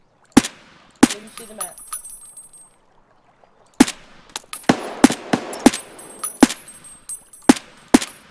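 Gunfire in Escape From Tarkov on the Shoreline map: sharp, loud shots crack out singly and in quick bursts, with a quiet gap before the shooting resumes, while a player speaks briefly.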